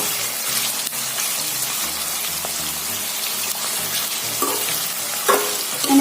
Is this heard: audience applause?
no